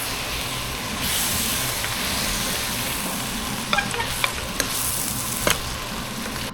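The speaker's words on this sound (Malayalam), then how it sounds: "ഇനി നമുക്കിതൊന്ന് ഇളക്കി കൊടുക്കാം." Vegetables for sambar rice sizzle in a pressure cooker pot as they are stirred, a continuous close hiss broken by several sharp scrapes and knocks of a utensil against the metal.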